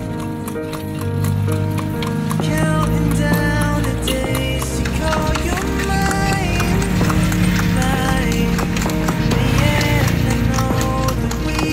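Steady clip-clop of horse hooves from a horse-drawn carriage in San Fernando, Pampanga, Philippines, rhythmic and continuous, mixed with street noise and faint voices.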